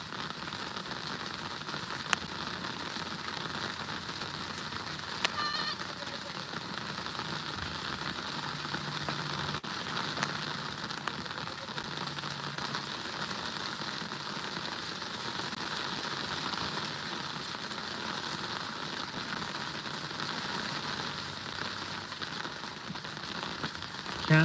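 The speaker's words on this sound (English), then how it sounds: "Oh, it's hailing." Hail falling steadily on a surface, a dense, even patter of countless tiny impacts that continues without a break, close and moderately loud, with no talking.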